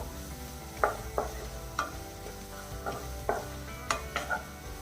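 A thick sweet potato masala curry with gram flour being sautéed and stirred in a pan: repeated sharp scrapes and taps of the spoon at an irregular pace over a low sizzle, up close.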